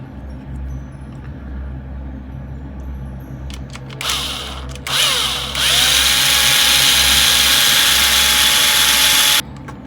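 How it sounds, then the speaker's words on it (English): A small power drill drilling into plastic whirs in short bursts, then runs in one long continuous whine before stopping, loud and close. "we use the same drill bit"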